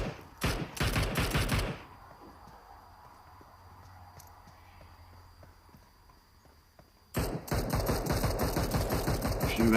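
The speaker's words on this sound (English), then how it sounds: "A few rounds going out there." Gunfire in a tactical multiplayer shooter match, rapid bursts of shots at the start and again near the end, with a quieter stretch of distant pops and ambience in between.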